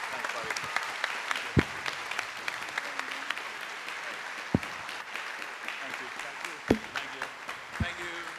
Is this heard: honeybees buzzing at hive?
no